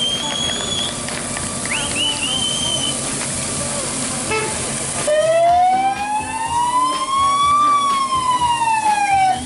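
Fire engine sirens wail loudly at a firefighter's marriage proposal staged through fire and water spray, rising and falling tones entering halfway through over a noisy crowd with cheering and applause.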